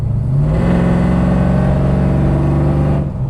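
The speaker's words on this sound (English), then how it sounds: "Exhaust has a great note when you get heavier in the throttle and it downshifts." A 2001 Pontiac Formula Firehawk sports car engine revving hard and steady on a downshift, a loud close exhaust note rising in pitch then holding before easing off.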